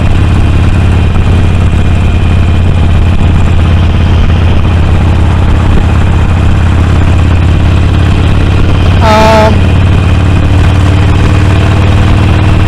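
A Harley-Davidson Sportster 48 with a 1200cc V-twin idles steadily and loudly up close, a continuous low rumble with a brief higher whine near the end.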